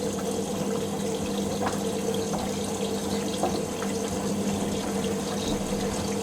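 A Hoover washing machine, model AAA160, fills with water for its final rinse on a mixed fabrics 60°C cycle, giving a steady, continuous rushing flow with faint clicks and no talking.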